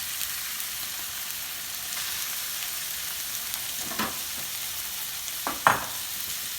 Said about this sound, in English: make sure that you can hear the sizzle